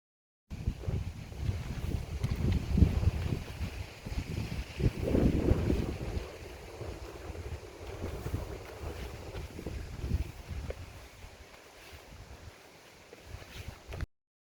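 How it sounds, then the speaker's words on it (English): Wind gusts buffet the microphone high on Cathedral Ridge on Mt Hood, a rough low rumble that surges and eases in waves, loudest in the first half, with no voices. "It's quite windy, so I couldn't really record there."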